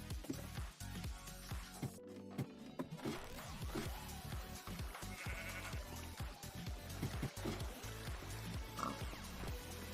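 Sheep in a Minecraft modpack bleating several times over busy game sounds and clatter, with a pig grunting in between, close and moderately loud.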